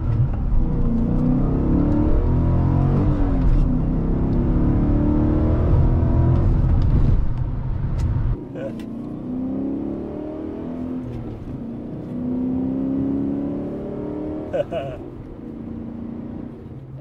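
BMW E39 M5 V8 revs hard and loud with a deep rising roar for about eight seconds, then drops to a quieter cruising drone with engine note still audible, alongside brief talk.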